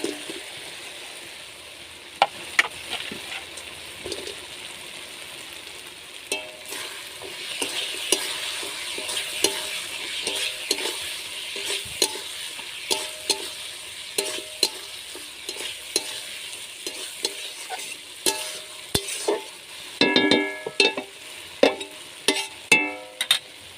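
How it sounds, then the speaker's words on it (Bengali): Fried paneer tossed and stirred in a pan for chilli paneer, a steady close sizzle of frying broken by frequent sharp scraping and clattering knocks of the spatula, growing busier toward the end. "এবার দিয়ে দেবো ভেজে রাখা পনির।"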